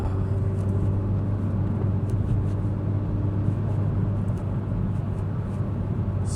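Renault Megane RS 300 engine driving fast down a country lane, a loud, steady low drone and road rumble from inside the car, sustained throughout with no voices over it.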